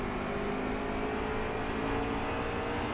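In NASCAR Heat 3 on the Bristol track, an Xfinity Series race car engine drones loudly at high revs, a continuous dense buzz with no breaks or voices.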